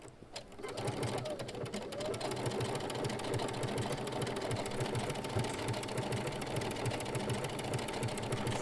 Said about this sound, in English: So I'm going to select an overcasting stitch, okay? And then we just start to sew.